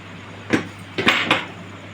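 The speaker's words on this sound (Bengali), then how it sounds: "এইদিকে কড়া চাপিয়ে দিলাম, আমি দিয়ে দেবো সাদা তেল" A metal wok set down on a stove, then white oil poured in: a few close clanks and knocks of pan against burner, with no talking.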